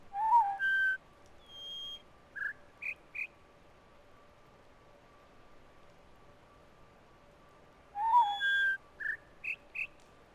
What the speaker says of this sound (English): There's that high-pitched whistle at the beginning, so that makes me think that it's high.